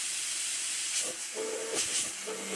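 A steam safety valve on a workshop model blows off with a steady, breathy hiss of escaping steam, close and continuous, with faint whistling tones flickering through it.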